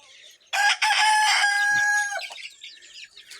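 Rooster crowing loudly and close by on a farm during hot weather, one long cock-a-doodle-doo followed by chickens clucking softly.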